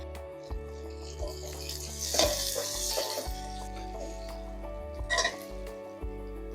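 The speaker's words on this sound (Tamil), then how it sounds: "இந்த சைடு வெங்காயம் வந்து நல்லா செவந்து நல்லா பொரிஞ்சிருச்சு" Chopped onions and curry leaves fry in hot oil in a pan for an egg curry. A soft, steady sizzle runs under brief bursts of stirring and scraping, with a low steady hum behind it.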